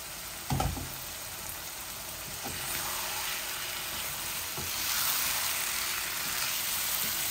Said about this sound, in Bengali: এই যে এগুলা ননস্টিক প্যানের মধ্যে ভুনা ভুনা করতেছি